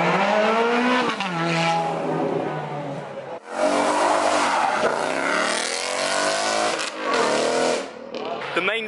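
Cars leaving a busy cars-and-coffee meet, a LaFerrari among them, with loud engines revving hard and roaring past close by in several surges, with voices over the noise.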